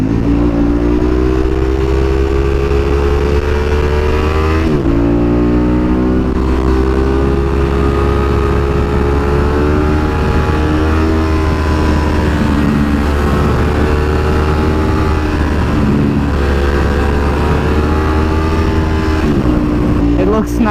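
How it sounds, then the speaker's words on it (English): A loud two-cylinder motorcycle engine runs continuously, its pitch rising and dipping as it revs, droning close by throughout. "It's just struggling to keep up with this 2-cylinder. I know it's a motorcycle"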